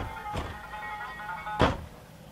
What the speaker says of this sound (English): So you got these big closet doors.